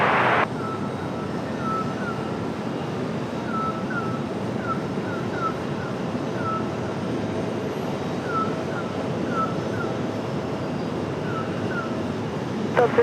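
A steady roar of airliner engine thrust at Raleigh Durham airport holds for the whole stretch, broad and fairly loud, with faint repeated beeping tones above it and no talk.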